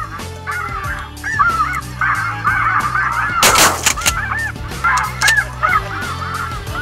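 Flocks of light geese honking loudly and continuously on the first day of the conservation season during a hunt, the calls layered near and far, with a brief sharp burst like a gunshot in the middle.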